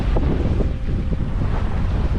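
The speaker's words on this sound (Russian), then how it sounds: "Я чувствую силу ветра, я иду под парусами." Wind roars across the microphone aboard a sailing yacht at sea, a dense low buffeting rumble with the wash of waves beneath, constant and loud with no voices.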